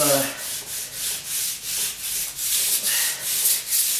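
Rhythmic back-and-forth sanding of a wooden door jamb with 100 grit sandpaper, about a dozen even scratchy strokes in a steady cadence, close and fairly loud.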